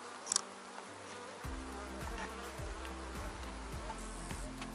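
Bees in a hive box hum with a steady, close buzzing drone. A brief sharp clack opens it, then the swarm's low, continuous whir fills the rest.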